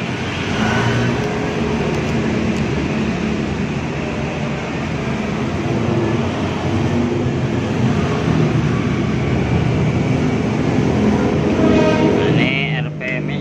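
A rewound blower dynamo motor running at 2800 RPM, a constant loud whirring drone close by, with a voice speaking over it.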